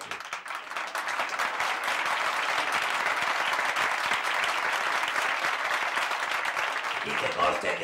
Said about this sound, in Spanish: ¡No aplaudáis, hombre, no aplaudáis!